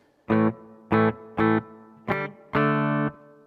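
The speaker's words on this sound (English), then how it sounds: "It's got it set for a little hall reverb." Five distorted electric guitar chords through a cheap Behringer reverb pedal set to hall reverb, four short stabs then a longer held one, each with a brief reverberant tail.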